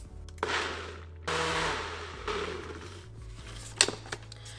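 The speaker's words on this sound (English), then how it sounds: "now we're going to blend until smooth." A Ninja Foodi blender blends soup made with oregano, bouillon and room-temperature water, running in several short bursts of whirring, with pauses between them and a light clatter near the end.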